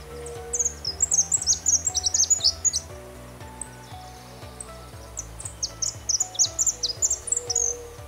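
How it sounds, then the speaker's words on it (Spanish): A male saffron finch sings bright, high trills and twittering phrases in repeated bursts, over a low rhythmic mechanical thumping in the background. "El jilguero dorado, el macho, en primavera-verano es muy vocalizador, agudo, sonoro y agradable, de trinos y gorjeos"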